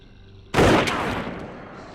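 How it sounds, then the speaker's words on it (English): A single loud, close gunshot bursts from quiet, followed by a second crack and a long decaying echo, in a tense scene with no talking. "Shots fired."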